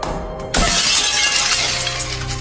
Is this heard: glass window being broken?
yes